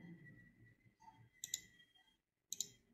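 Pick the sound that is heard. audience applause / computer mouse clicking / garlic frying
computer mouse clicking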